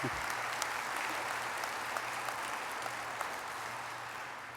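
An audience at the 2015 Bobby J. Fowler Award ceremony claps steadily, a dense patter of many hands with a few sharper claps standing out. It fades slightly toward the end, and no one speaks.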